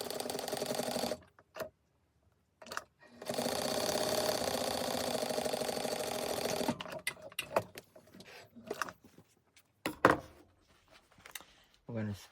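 A sewing machine stitches fabric pieces for a mug rug coaster at a quarter-inch seam, running in a steady whir for a few seconds, then stopping and restarting in shorter bursts with handling noises.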